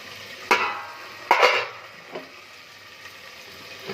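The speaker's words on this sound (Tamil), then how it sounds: "சோத்தை கொஞ்சம் கிண்டி விடணுமா" Cooked rice being stirred in a pot, giving a few scraping strokes of a utensil against the pot, two louder sweeps early on, then softer scrapes against a quiet background.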